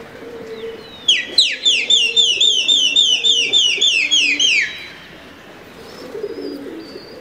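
Pigeons at a loft in Karachi give a bright, rapid series of repeated calls that rise and fall in pitch for a few seconds, with softer low cooing before and after.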